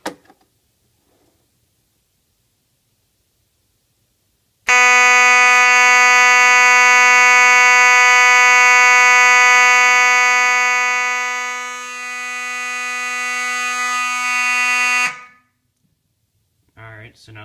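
FCI FC-72 fire alarm panel sounding a loud, steady alarm tone that holds continuously for about ten seconds, dips slightly, then cuts off abruptly, with near silence before and after.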